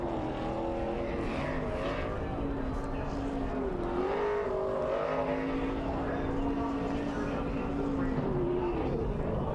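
A NASCAR Xfinity Series race car doing a burnout after the DC Solar 300 race, its engine holding a loud, steady drone that rises and dips in pitch, with a rough roar running underneath for the whole stretch.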